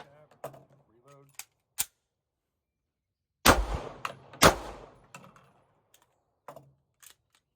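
Pistol gunfire is fired in double taps: two sharp, loud paired shots with quick echoing decay, each pair close together, and faint handling clicks and quiet speech between them.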